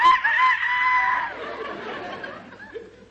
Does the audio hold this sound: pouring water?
no